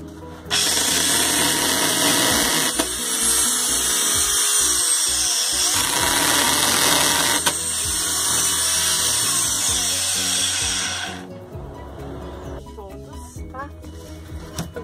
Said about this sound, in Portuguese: Agora, com a furadeira, você vai furar pra lâmina entrar